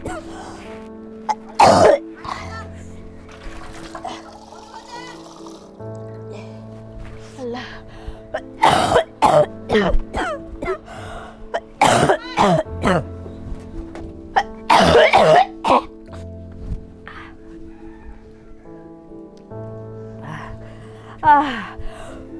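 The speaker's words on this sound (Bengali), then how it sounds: "তোমার কাশিটা কি আর কমে না নাকি?" A person coughs and clears their throat in several sharp, harsh bursts spread across the stretch, with gasping breaths and quieter moments in between, close and fairly loud.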